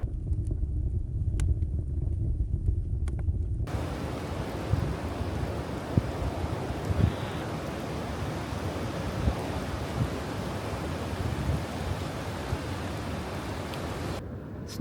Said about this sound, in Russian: Снова метель.